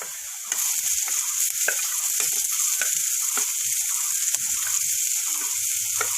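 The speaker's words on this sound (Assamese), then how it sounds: "ৰিফাইনখিনি ধুনীয়াকৈ গৰম হোৱাৰ পিছত প্ৰথমতে মই আলুখিনি দিম" Potatoes frying in hot refined oil in a pan give a steady, close sizzle with occasional small pops and stirring clinks, continuous for several seconds with no talk.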